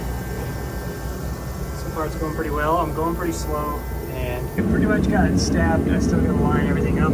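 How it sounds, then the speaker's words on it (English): A space heater runs steadily in a garage beside a 1994 school bus being fitted with an Allison six-speed transmission, a constant broadband hum that grows louder partway through, under someone talking throughout. "Sorry about the heater noise"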